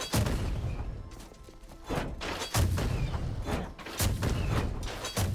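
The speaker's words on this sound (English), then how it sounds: "the explosion is from where the cannonball hits the wall" Cannonball explosions strike a wall in the video game Rogue Legacy 2: four heavy booming thuds land at irregular intervals, each followed by a rumbling tail, loud and without voices.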